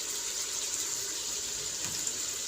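Half a cup of water pours into a cooking pot of chicken and bell pepper curry, a steady close rushing trickle that runs for a couple of seconds.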